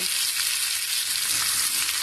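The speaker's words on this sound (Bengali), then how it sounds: "আরও কয়েকটা মাছ আমি এইভাবে ভেজে নেব" Bata fish fry in hot oil in a pan, a loud, dense and unbroken sizzle that stays steady and close for the whole stretch, with no voices.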